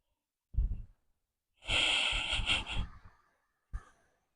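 Deep breaths taken during a yoga Surya Namaskar B sun salutation flow: a short exhale, then a longer audible breath with airy hiss, and a brief final puff, close and fairly quiet.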